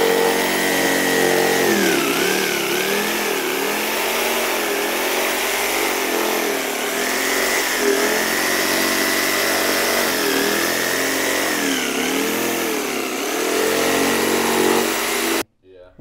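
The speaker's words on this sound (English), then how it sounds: "We'll try and find the jigsaw and get that jigsawed out" A jigsaw cuts through a Land Rover Discovery tailgate panel, giving a loud, steady buzzing whine with wavering pitch as the blade follows a curve, running continuously until it stops abruptly at the end.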